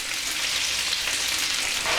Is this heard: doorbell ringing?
no